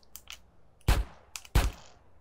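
Two sharp, close gunshots from a shotgun in the video game GTA San Andreas ring out about a second apart, with faint clicks in between.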